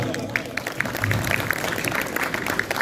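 Applause from the crowd at the Jhelum Cricket League Season 4 opening ceremony, many hands clapping outdoors at a moderate distance with crowd murmur and a voice mixed underneath.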